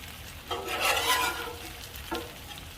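Bacon sizzles on a hot Blackstone flat-top griddle, a crackling hiss that swells as strips land on the steel, with a scraping stir and a second brief burst near the end.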